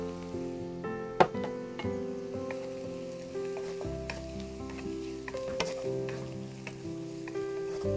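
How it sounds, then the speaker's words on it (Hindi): Onions and carrots sizzle steadily in a hot pan, a close, continuous frying hiss with one sharp clink near the start and faint scraping of a utensil, no voices. "इसमें डाल दें गाजर, क्योंकि गाजर के साथ भी प्याज लाल होती रहेगी।"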